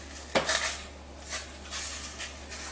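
Raspberry turnover filling of raspberries, 1/4 teaspoon cinnamon and 3/4 teaspoon vanilla being stirred in a pot, with a sharp clink of a utensil against the pan followed by softer scraping stirs, no talking.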